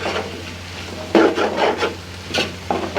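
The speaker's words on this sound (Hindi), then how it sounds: "इनको हम अच्छी तरह से मिक्स करेंगे" Shredded cabbage and bell pepper get stirred in a hot frying pan for keema vegetable macaroni, with several scraping spatula strokes over a soft steady sizzle, close up and without talking.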